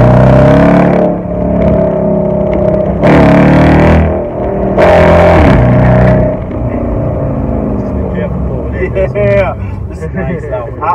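Car with aggressively lowered suspension on Eibach or H&R springs driving down a road, a steady engine drone and road rumble inside the cabin, with people talking over it in bursts.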